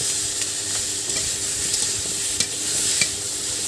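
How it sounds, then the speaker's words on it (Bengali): Pumpkin pieces frying in a pan and turned with a metal spatula, a steady close sizzle with occasional light scrapes and clicks of the utensil. "ভাজা হচ্ছে, কুমড়োটা"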